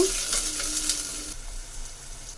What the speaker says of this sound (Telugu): ఇంకా ఆనియన్స్ మధ్య రకంగా వేగితే సరిపోతుందండి